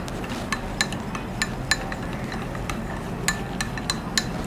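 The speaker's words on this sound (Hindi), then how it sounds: "अब मैं इसको दोबारा मिक्स कर लूँगी।" Apple face mask mixture being stirred in a bowl, a utensil clinking against the side in a loose series of light, sharp ticks over a steady background hiss.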